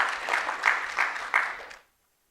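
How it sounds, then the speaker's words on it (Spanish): A church congregation claps together in a short, dense burst of applause with a few stronger accents, then stops abruptly into silence. "¿Cuántos le dan palmas al Señor por esto?"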